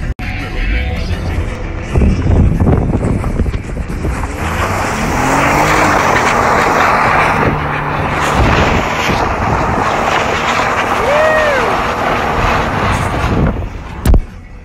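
A Lincoln car spins donuts with traction control off, its engine roaring loud and close with tyre noise and wind buffeting, rising and falling through the turns before a sharp bang near the end.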